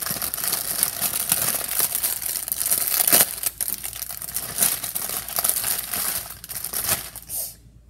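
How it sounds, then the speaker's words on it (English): A paper wrapper is opened and crinkled close by, giving a run of dense crackling rustles with a few sharper snaps before it stops abruptly near the end. "I just open the whole paper."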